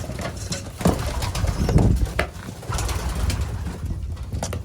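A flock of racing pigeons coos steadily and close by while feeding, with soft rustling and occasional wing movement throughout.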